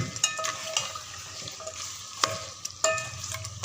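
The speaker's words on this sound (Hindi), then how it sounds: "और घी भी ऐड कर दिया मैंने। अब इसकी कर रही हूँ भुनाई।" Beef karahi frying in ghee in a pan while being stirred, giving a steady close sizzle broken by scraping strokes and soft clinks, with no talking.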